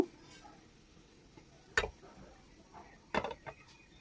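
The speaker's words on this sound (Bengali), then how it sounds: "এখন আমি ঢাকনা দিয়ে ঢেকে দিব।" A metal lid clanks onto a cooking pot of simmering milk-powder rasmalai sweets, two sharp, close knocks about a second and a half apart over quiet kitchen background.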